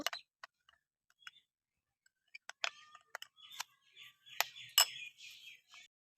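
Homemade shampoo ingredients being mixed in a container: scattered light clinks and ticks, sparse at first and then quicker, with scraping taps near the end, close and faint with no talk.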